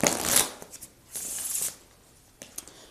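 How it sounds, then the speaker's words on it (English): A deck of playing cards is shuffled up close, several quick riffling bursts with brief pauses and a few soft taps between them, no talking. "They can shuffle as much as they want."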